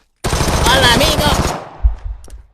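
A loud, close burst of rapid automatic gunfire rattles for about a second and a half in a VR first-person shooter game, then cuts off into a brief low thump and faint clatter.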